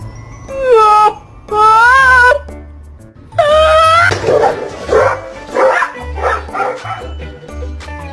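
A dog barks loudly and close, several sustained, howl-like barks followed by a run of shorter yips and whines.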